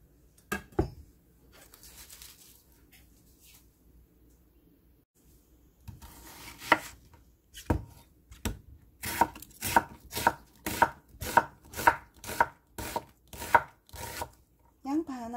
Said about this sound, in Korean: 부추를 반으로 잘라주세요.